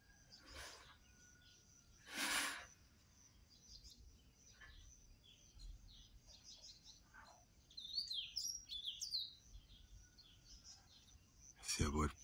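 Backyard birds chirp and tweet in scattered short calls over a faint outdoor hiss, with a brief burst of quick high trills and a few louder close bursts of noise, insects faintly in the background.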